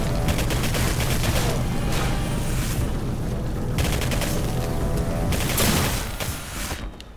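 Dense, continuous video game gunfire in Singularity, a loud barrage of overlapping shots and booms that rolls on for several seconds before easing slightly at the end.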